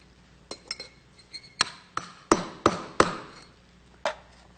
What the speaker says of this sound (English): with a hammer